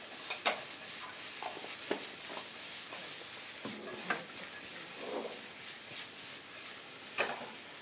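Boiled pork being stirred in a frying pan, with a steady low sizzle and occasional scraping clinks of the utensil against the pan at irregular intervals, close and fairly quiet.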